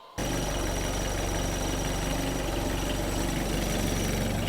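A sailboat's inboard engine restarted after a complete failure, idling steadily at anchor just outside a channel off the Oregon coast, a close, even low rumble with slight knocking and no voices.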